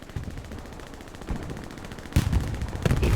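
Gunfire in a competitive Hell Let Loose match: faint, scattered shots echo at a distance, then a few louder, sharper cracks break through toward the end.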